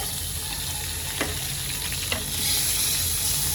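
Continuous hissing sizzle of butter melting in a kadhai, a couple of light utensil taps, the frying growing slightly louder toward the end.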